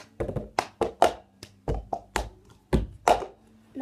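Cup song rhythm played on an upside-down cup: a steady pattern of close, sharp hand claps and taps of the cup on a table, about a dozen crisp hits alone with no talking.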